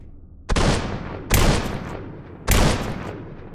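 Three loud, sharp gunshots in the Flipside Frights video game, spaced irregularly over about three seconds, each a crisp crack with a rumbling tail; no talking.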